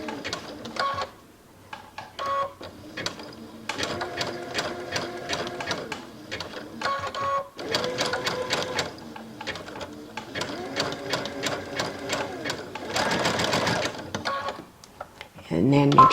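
A sewing machine stitching over crochet thread, with fast rhythmic needle chatter running in several bursts separated by short pauses, close and clear, and a voice talking between runs.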